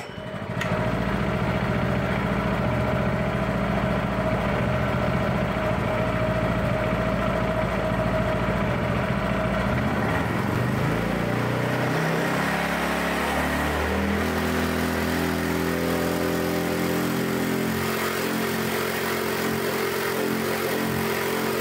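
A Predator 212 small engine idles with a steady throb, then revs up hard toward maximum RPM, its pitch climbing in rising harmonic sweeps before it holds a loud, high, steady whine near valve float.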